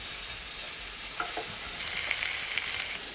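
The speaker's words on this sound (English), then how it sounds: "Place 1 rasher of bacon in a pan, and as soon as it starts to release its smoky fat, wiggle it around the pan." A rasher of bacon and small rounds of batter fry in a pan with a steady, close hiss that grows denser and crackles more toward the end, with a few light knocks as the food is moved around.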